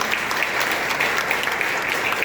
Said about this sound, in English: Give Mama a round of applause